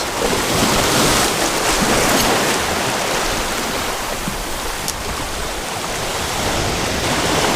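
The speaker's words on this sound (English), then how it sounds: "Also got a little bit of whitewash coming in." Whitewash waves break and wash over big rocks along a Hawaii shoreline, a loud continuous roar of surf mixed with wind noise on the microphone.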